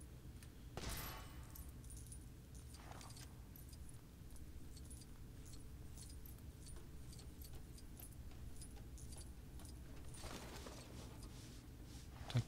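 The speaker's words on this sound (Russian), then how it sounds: "Так, порылись и нашли ключик." In the LEGO Jurassic World video game, a key is found while rummaging: faint metallic jingles and clinks over a low, steady game background hum, with a few brief rattles and no talking.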